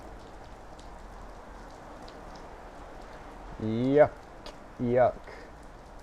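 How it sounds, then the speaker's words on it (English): Steady rain pours outside as a soft, continuous patter in the background, and someone speaks briefly over it. "Y'all hear the rain in the background? That's because it is raining outside."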